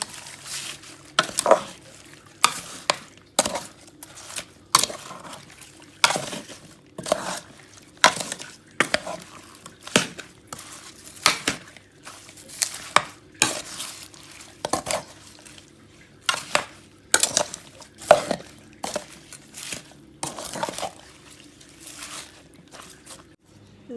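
Repeated clinks and scrapes of a utensil against a pot as chopped spring onions are stirred into a Thai mok mor dish, coming in steady bursts about once a second, with a faint sizzle underneath.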